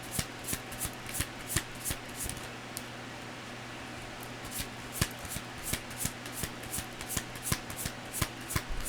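Playing cards being shuffled and drawn for a tarot-style reading: steady, close rustling with a rapid series of sharp card snaps and flicks throughout, no voices.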